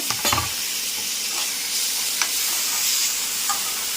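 Tomatoes and ginger sauté in a pan for a yogurt curry, a bright steady sizzle with several scraping stirs and knocks of a spoon, loudest near the start.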